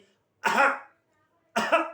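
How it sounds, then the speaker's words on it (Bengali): Two separate coughs, close and clear, with a short silent gap between them. "এরকম করে কাশি দিয়ে কপটাকে থুয়ের মাধ্যমে ফেলে দেই"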